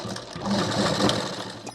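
A sewing machine stitching the seam of a blouse for a young girl, running continuously close by with a rapid whirring, ticking rhythm through the whole short stretch, with no talking.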